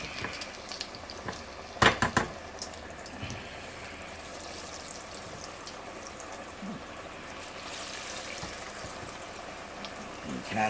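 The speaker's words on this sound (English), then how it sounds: "375 degrees. Because I'll be cooking the hush puppies and the fish in this." Hush puppies frying in oil heated to 375 degrees, giving a steady, soft bubbling sizzle with a couple of sharp clinks from utensils near the start.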